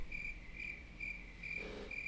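Crickets chirp as a comic sound effect after a joke, a clear, evenly spaced trill pulsing about twice a second, moderately faint over a quiet background with no voices.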